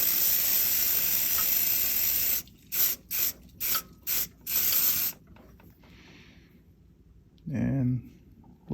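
Accelerator sprays onto a pen blank turned by hand, a loud close hiss held for two seconds, then five short bursts, a quieter pause, and one more brief spray near the end.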